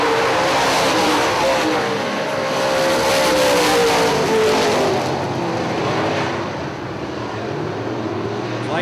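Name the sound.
UMP late model race cars racing on the speedway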